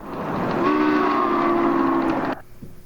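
A steam locomotive's whistle blows one steady, loud blast over a rumbling train for nearly two seconds, then cuts off abruptly, leaving faint background noise.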